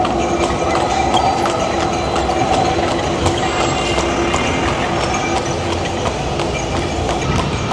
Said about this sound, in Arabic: ده الترام بقى، الترام.